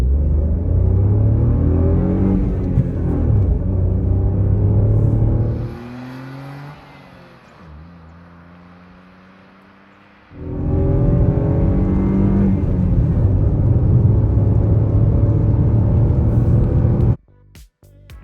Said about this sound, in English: I love the engine note you get when you rev it out